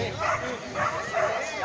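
A dog at a Spanish agility jumping event gives repeated excited yips and barks over a busy, noisy background while someone talks over it.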